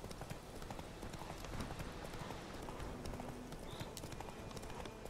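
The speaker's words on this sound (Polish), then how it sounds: "Wystarczy, że tylko zagwizdnę, a koń od razu rusza" Horse hooves clip-clop at a quick running pace in The Witcher 3 game, a steady rapid patter of hoofbeats at low volume with no talking.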